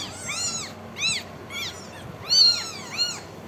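Several high, thin mews from newborn kittens whose eyes have not yet opened, in short bursts, a few close together then a louder cluster, with faint background hiss between calls.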